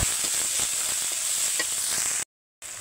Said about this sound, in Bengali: এবার জিরা গুঁড়ো দিচ্ছে, ঝালের গুঁড়োটাও দিয়ে দিচ্ছে। দিয়ে সুন্দর করে মশলাটা কষিয়ে নেবে।